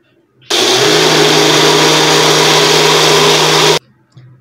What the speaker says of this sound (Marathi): आता मिक्सरला आपण ह्याचा मिल्कशेक बनवून घेऊया